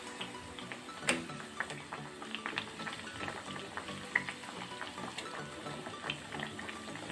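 High-fibre food frying in a pan crackles and sizzles steadily, with sharp spatter pops and a few scraping clatters as the pieces are turned over.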